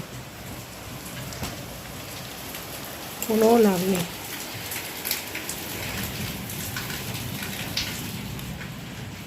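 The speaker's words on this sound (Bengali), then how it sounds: "ছাঁটের বৃষ্টি হচ্ছে" Heavy rain pounds steadily, gusting in sheets, while someone speaks briefly over the downpour.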